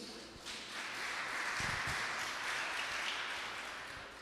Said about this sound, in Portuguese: Vamos aplaudir ao Senhor por isso?